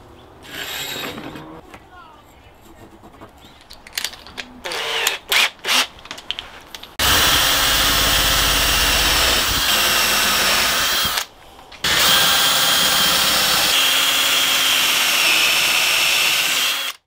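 A power drill boring guide holes in wooden pieces for a ceiling-mounted articulated camera arm, starting with scattered clicks and handling noises, then two long, loud sustained whirring runs separated by a short pause.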